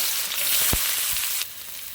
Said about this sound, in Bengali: দেখুন বন্ধুরা, আলুটা আমি ভেজে নিচ্ছি